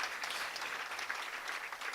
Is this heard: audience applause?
yes